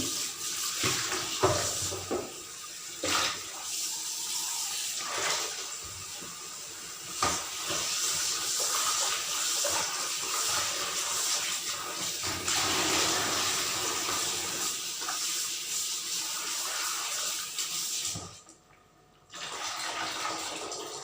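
Tap water runs steadily in a kitchen while raw chicken is washed, a continuous hissing splash with occasional knocks and shifts, briefly cutting out near the end before resuming.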